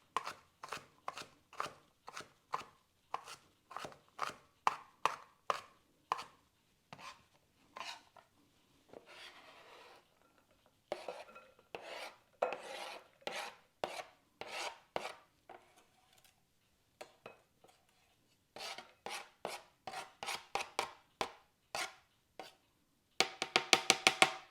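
A knife chops ingredients for a chunky guacamole salad with feta on a cutting board, quick rhythmic taps in bursts separated by short pauses, close and fairly quiet, with no voices.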